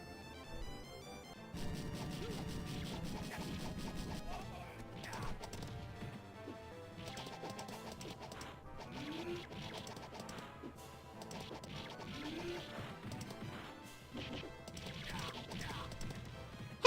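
Rhythmic clip-clop of horse hooves in a video game, with scattered thuds and game sound effects layered over a steady background, moderately loud throughout.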